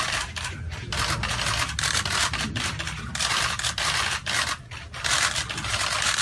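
Camera shutters click in rapid bursts at a press photo session presenting new PSV football signings, many cameras firing close together in clustered volleys.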